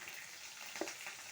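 Fenugreek leaves fry in a pan for chicken curry, giving a faint, continuous sizzle with soft crackles and a small stirring scrape, close and quiet, with no talking.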